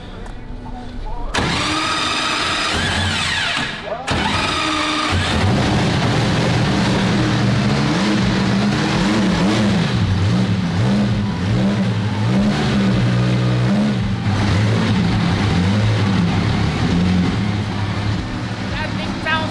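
Life-size Bugatti Type 35 replica engine cranks and catches after a couple of short attempts, then settles into a loud, close, uneven running note with revving, voices chatting over it.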